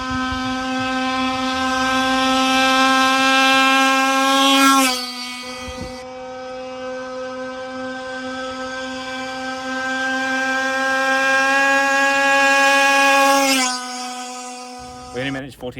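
Zenoah G340 petrol engine fitted with a Case Reed Bigfoot running at high revs, a loud, steady, buzzing high-pitched whine rich in harmonics that briefly cuts out and drops, then winds back up before stopping.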